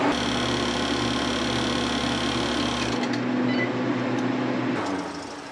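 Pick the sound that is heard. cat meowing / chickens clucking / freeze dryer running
freeze dryer running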